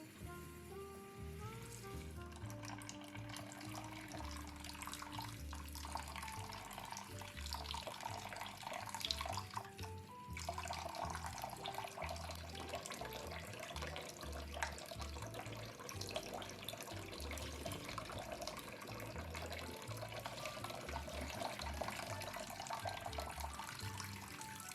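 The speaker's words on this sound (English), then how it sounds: "Wash the Fonio." Fonio grain being rinsed under a running kitchen tap, a steady close splash and trickle of water in a sink that continues throughout, with faint clinks and no talking.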